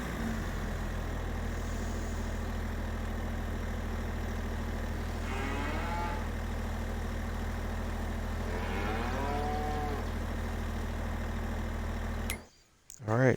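Cattle in the farming game Farming Simulator 22 let out two drawn-out moos, several seconds apart, over a steady engine idle hum. The sound cuts off abruptly near the end.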